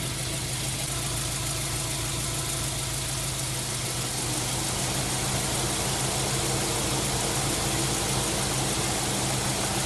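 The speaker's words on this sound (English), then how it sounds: "Okay, so our fans are just cycled on." A Subaru EJ engine idles with its radiator cooling fans running. The result is a loud, constant broadband whoosh over a steady low engine throb, with no talking and no change across the stretch.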